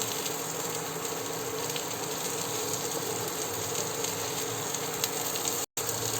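Capsicum and mixed vegetables fry in a pan over low heat and are stirred gently, giving a steady, close sizzle with faint scraping that runs throughout and pauses briefly near the end.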